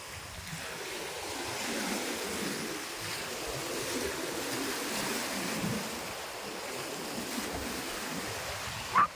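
Ocean waves at high tide wash onto Bonbon Beach in Romblon, Philippines, as a continuous, moderately loud rushing surf with some wind, and no voices.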